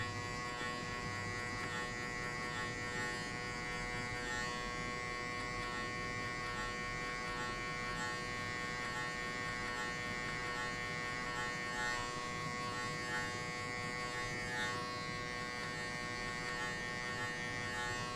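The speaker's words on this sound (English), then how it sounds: "And also, you flick the clipper to out." Electric hair clipper buzzing steadily throughout a buzzcut, a constant close motor hum with no talk over it.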